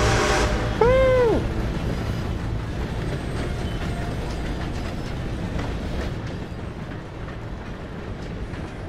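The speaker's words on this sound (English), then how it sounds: "Gotta beat that train, Morgan." Steam train from Red Dead Redemption 2 rumbling loudly and steadily along the rails, with a whistle-like rising tone near the start over continuous heavy rolling noise, no talking.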